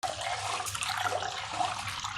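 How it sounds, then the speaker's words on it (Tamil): Rice being washed by hand in water for idli batter, a steady close swishing and sloshing of grains and liquid without pause. "இப்போ இதை நல்லா கழுவிட்டு ஊற வைக்க போகிறோம்"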